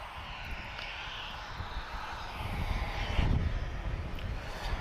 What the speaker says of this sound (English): our first Ryanair of the day, Foxtrot Romeo 2086, and he is off to Milan